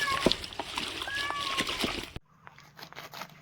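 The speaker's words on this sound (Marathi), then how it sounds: "मस्त पाणी टाकून धुवून घेणार आहे" Leafy greens swished and sloshed in water in a kitchen, with splashing and dribbling close by before it drops to quieter faint trickles; a voice speaks over it.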